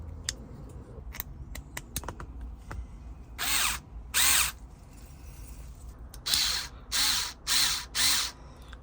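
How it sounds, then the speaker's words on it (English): A power drill drives screws into a Tesla Model Y screen rotation mount in six short, close bursts of whirring, with small clicks and handling noises between them. "And then you can go ahead and grab your screws and put them in."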